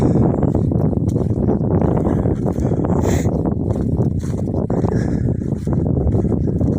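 A tractor ploughing a field in light snow, heard as a loud, steady engine drone close to the microphone, mixed with blustery wind buffeting and no talk.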